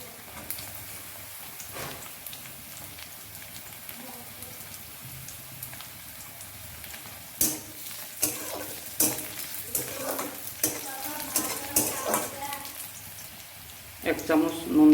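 Garlic paste goes into a pan of browned onions, giving soft, steady crackling sizzle with intermittent clatter of stirring, close by and fairly quiet.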